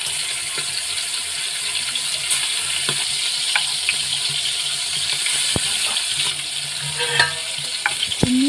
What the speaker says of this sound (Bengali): তেল গরম হয়ে গেলে চিংড়ি মাছগুলো ভেজে নেব।